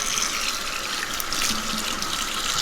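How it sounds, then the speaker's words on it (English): Warm water gushes steadily from a tap to rinse a blue tie-dye T-shirt with pleated sides, a continuous close splashing rush with no voices. "Gotta get inside now with some warm water."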